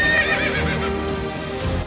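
A horse neighs loudly and close by, one long whinny carried through nearly two seconds with no talk, at a riding spot where horses are ridden on sand and savanna.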